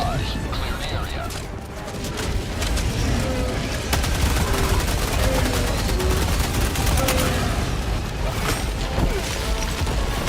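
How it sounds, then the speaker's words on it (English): Orbital barrage strikes pound the battlefield in Helldivers 2, a dense, continuous roar of overlapping explosions and gunfire with voices talking through it. "Firing orbital barrage"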